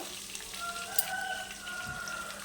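Faint, steady sizzling of onions frying in oil, soft and continuous, with a light tap partway through.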